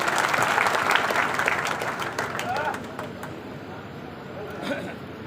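A crowd at a school event in Malegaon applauds, with dense clapping that is loudest at first and gradually thins out, with faint voices mixed in.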